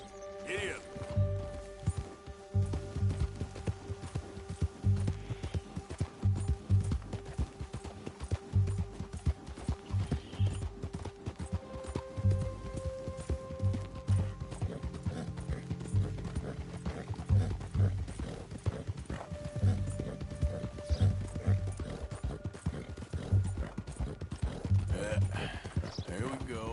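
A horse gallops in the Red Dead Redemption 2 video game, its hooves drumming in a steady, rhythmic clip-clop throughout, with soft sustained game-music tones underneath.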